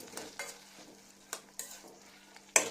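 Tomatoes cooking down with salt and tamarind in a pan, a quiet, soft sizzle under a few scattered scrapes of a stirring spoon, ending in a sharper metallic clink against the pan.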